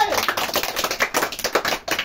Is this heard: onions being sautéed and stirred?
no